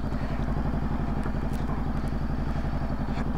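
A motorcycle idling close by on a Manila to Romblon ride, its engine a steady rapid chugging pulse that holds even and loud throughout, with no talk over it.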